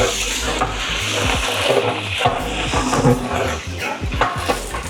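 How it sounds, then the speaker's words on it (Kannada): Onions frying in oil in a pot at a biryani kitchen in Nelamangala, a steady sizzle broken by repeated scraping and clinking of a utensil against the metal pot, close and fairly loud. "ಪಾತ್ರೆಗೆ ಆಯಿಲ್ ಹಾಕಿ ಚೆನ್ನಾಗಿ ಈರುಳ್ಳಿ ಫ್ರೈ ಮಾಡ್ಕೊಂಡು"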